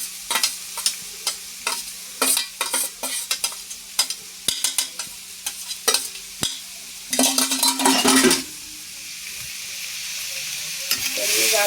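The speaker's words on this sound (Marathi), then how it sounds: "गाजर परतून घेते चांगलं या तुपात." Carrots stirred and frying in hot ghee for carrot halwa, with a steady close sizzle broken by repeated sharp scraping strokes of a spoon in the pan and a dense burst of stirring near the end.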